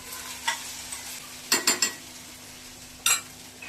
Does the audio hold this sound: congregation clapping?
no